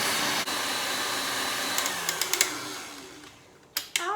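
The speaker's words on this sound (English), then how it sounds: "We're going to whisk until we get" An electric mixer whisking egg whites to stiff, glossy peaks for angel food cake, a steady close whirring drone that fades near the end and is broken by a few light taps.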